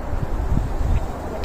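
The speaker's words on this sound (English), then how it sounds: "Bit windy today again." Wind buffeting a microphone outdoors on a blustery morning, a continuous low rumbling roar with gusty swells throughout.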